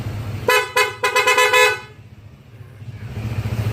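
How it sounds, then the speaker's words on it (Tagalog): An aftermarket PIAA horn on a Honda ADV 160 motorcycle honks three times in quick succession, loud and close, over a low idling engine rumble that continues afterward. "original PIA horn na yan mga bok"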